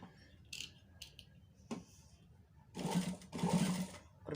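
A sewing machine stitches a high neck on a garment in short bursts, with light clicks and handling noises between two louder, close runs of the motor near the end.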